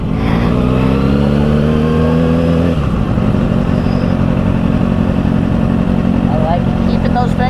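Motorcycle engine at the Yamaha Champions School riding course, a steady loud drone that drops in pitch partway through as the bike slows, then runs on at a lower, rougher note with a voice talking over it.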